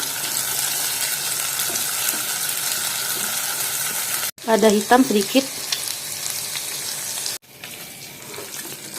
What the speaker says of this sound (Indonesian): Bawang merah, bawang putih, jahe, lengkuas, kemiri. Kita tumis sampai harum.